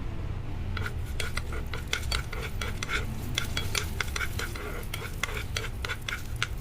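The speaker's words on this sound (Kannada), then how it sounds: "ಈಗ ಇದಕ್ಕೆ ಒಂದು ಸ್ವಲ್ಪ ಇಂಗು ಹಾಗೂ ಎಣ್ಣೆ ಹಾಕ್ಕೊಂಡು ಹುರ್ಕೊಳ್ತಾ ಇದ್ದೀನಿ." Dried chilli, curry leaves and asafoetida fry in oil in a pan for a South Indian mixed-vegetable kootu. A steady soft sizzle runs under rapid, rhythmic scraping of a spoon stirring against the pan.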